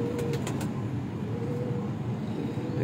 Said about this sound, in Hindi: बहुत प्यारी बगल का कबूतर जी